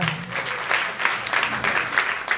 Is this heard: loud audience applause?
yes